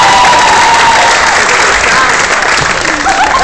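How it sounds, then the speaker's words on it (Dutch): Loud, dense applause and cheering from a festival audience after a band's set, a continuous wash of clapping and crowd noise close up throughout, with shouting voices mixed in. "Applaus! Yeah!"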